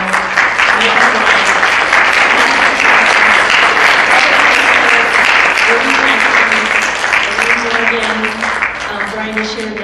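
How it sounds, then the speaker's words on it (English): Black tie gala audience in Orange County, Florida, applauding standing honourees: loud, sustained crowd clapping with cheering and voices mixed in, tapering slightly near the end. "please stand so we can give you a round of applause"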